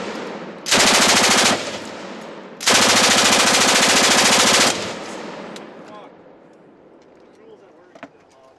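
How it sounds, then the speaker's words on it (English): Two loud, long automatic bursts from a vz. 59 machine gun, the Czech counterpart of the PKM, at an outdoor machine gun shoot, the first burst short and the second lasting about two seconds, followed by a fading echo and quieter range background. "Czech version of the PKM."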